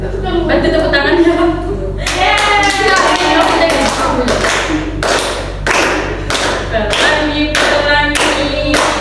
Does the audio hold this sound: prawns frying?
no